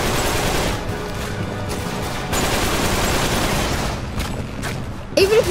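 Rapid gunfire and booming explosions as an enemy's bike blows up in the video game Uncharted 3, dense bursts of shots with a sharp blast near the end.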